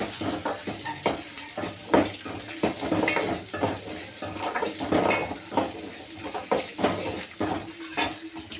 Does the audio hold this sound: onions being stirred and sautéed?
yes